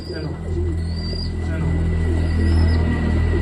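Low, soft coos from pet wild pigeons repeat in a gentle rolling rhythm close by during feeding, with a voice speaking over them.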